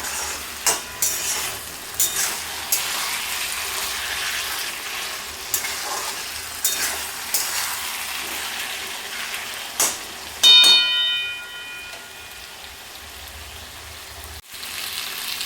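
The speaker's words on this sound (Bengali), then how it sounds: "এখন এটা একটু ভালো করে গ্যাসটাকে বাড়িয়ে আর একটু ভাজা ভাজা করে" Rohu fish head and Malabar spinach curry being fried dry over raised gas heat gives a steady sizzle with scraping stirs, a few sharp utensil knocks and a brief clink near the end.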